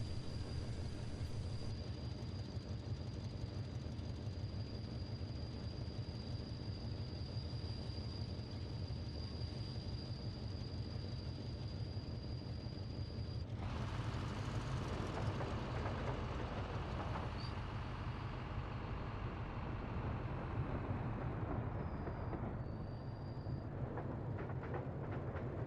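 A train runs in the Workers & Resources: Soviet Republic video game, a steady, even rolling rumble that continues without break and with no talk.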